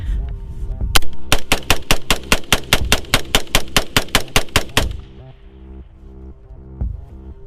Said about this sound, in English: Right now the bump stock is not in place, and we're gonna see how many rounds we can get off without the help of a bump stock.